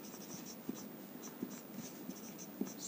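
Chalk writing on a classroom blackboard, a run of faint scratchy strokes with a few sharper taps, steady and close, with no speech.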